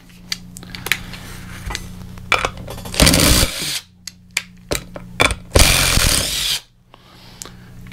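Ryobi 18V cordless 1/4-inch impact driver running in short bursts, loud rattling hammering spells between clicks and handling knocks, two longer runs standing out, no voices.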